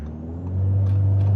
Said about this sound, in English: lots of turbo spool noises that you're just hearing and picking up on